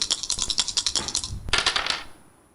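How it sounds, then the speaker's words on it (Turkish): A spinning die clatters on a TV quiz show set, rapid rattling ticks that slow and fade out over a couple of seconds. "Zarı döndürdüm."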